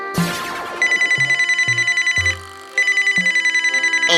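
A telephone rings loudly and close, with a rapid trilling electronic bell in two long bursts separated by a short pause, mixed with a few low thuds and musical stings.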